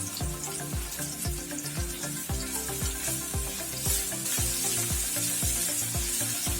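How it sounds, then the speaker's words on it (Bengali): Onions frying in oil in a pan with salt and sugar added, a steady dense sizzle running throughout with regular low thumping beats of background music underneath. "পেঁয়াজটা লাল করে ভাজা হয়ে গেছে"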